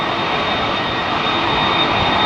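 A heavy jet airliner roars loud and steady just after lifting off Heathrow's runway 27R, a broad, continuous engine rush with a faint high whine and no pauses or talk.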